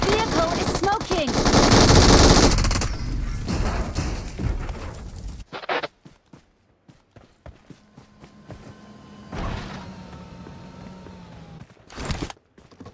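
Rapid bursts of automatic gunfire in PUBG Mobile dominate the opening seconds, followed by scattered single shots, clicks and thuds in a quieter stretch.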